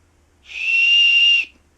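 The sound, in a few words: whistle built into a survival knife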